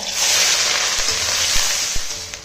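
Whole cumin seeds and chopped onion frying in hot oil, a loud, steady close-up sizzle with faint clicks of stirring underneath.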